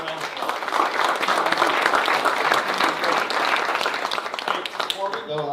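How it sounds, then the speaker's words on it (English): An audience at a council meeting applauds, and sustained clapping fills the room loudly and evenly from start to finish, fading slightly at the end. "applause."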